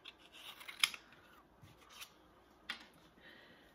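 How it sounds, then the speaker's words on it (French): Scissors snip through paper to cut out a small triangle, giving a few soft, quiet cuts and rustles in a hushed room, with one sharper snip standing out. "OK, on va le découper."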